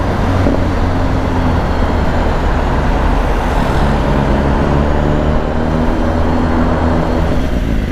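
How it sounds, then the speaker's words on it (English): Heavy road traffic on a French road, a loud steady wash of engine rumble and tyre roar from many cars, buses and trucks, heard close and unbroken throughout. "there's a lot of traffic."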